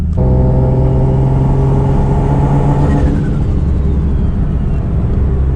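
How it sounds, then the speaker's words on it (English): A tuned street car's turbocharger spools with a whistle over a loud, close engine drone that rises under acceleration and then shifts into a rougher, steady roar. "Listen to the turbo, you can hear it so much more"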